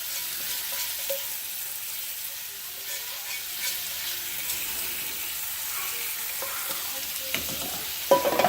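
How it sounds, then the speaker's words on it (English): Paneer and green capsicum sizzle steadily in a hot pan for an Indian curry, with soft stirring scrapes and a few louder clatters of the spoon against the pan near the end. "Now I'm gonna add my soft and green peppers or capsicum here."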